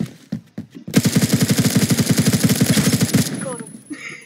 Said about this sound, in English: That's a long machine gun.